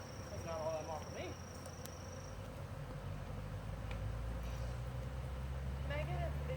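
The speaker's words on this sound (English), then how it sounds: "they're fanning this bucket now, too" Honeybee swarm buzzing and fanning around a bucket during a swarm removal, a dense steady hum close by, with outdoor background noise.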